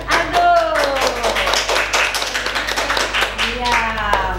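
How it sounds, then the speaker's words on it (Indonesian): Clapping for a child at a Sunday church service with a children's Sunday school segment, a few hands patting in uneven rhythm close by while voices talk over it. "tepuk tangan buat Aldo."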